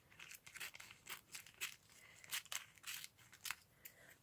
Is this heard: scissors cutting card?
yes